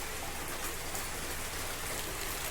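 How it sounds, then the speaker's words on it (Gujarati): Steady light drizzle drips from a roof onto a wet veranda, continuous soft broadband hiss with a faint low rumble beneath, no voices, during heavy monsoon rain in Gir. "આ વરસાદ કે હજી ઝરમર ઝરમર ચાલુ જ છે"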